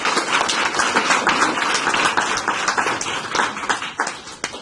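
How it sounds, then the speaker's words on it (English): A room of conference attendees applauds with a thick, continuous patter of many hands at fairly close range that keeps its strength for several seconds, then thins slightly toward the end. "Let's give Kent a big round of applause."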